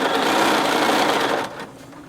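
A Bernina sewing machine stitching during ruler quilting runs at a fast, steady whir up close, then stops abruptly after about a second and a half, leaving faint room noise.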